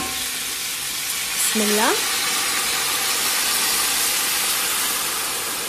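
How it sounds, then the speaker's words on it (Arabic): Hot water poured into a pot of frying meat sets off a loud, steady sizzling hiss that swells briefly and then holds, with a short spoken phrase near the start. "شوفوا اللحم تحمر من الصوب الثاني، الحين نصب الماي الحار"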